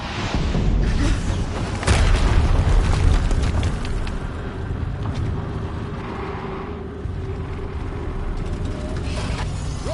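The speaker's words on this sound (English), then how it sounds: "Explosion." In the video game Horizon Zero Dawn, an explosion booms with a heavy low-end burst near two seconds, then a long rumbling, crackling tail that fades slowly over the following seconds.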